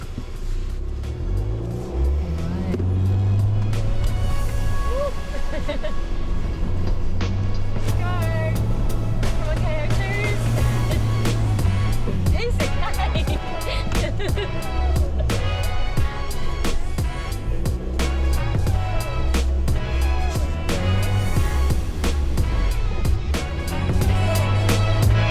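A 4x4 on all-terrain tyres aired down to 10 psi climbs a sand hill, its engine droning loud and steady with revving surges throughout, while voices talk over it.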